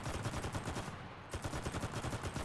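Rapid automatic gunfire in the video game CRSED rattles almost continuously, loud and close, with a brief break in the middle before the bursts resume.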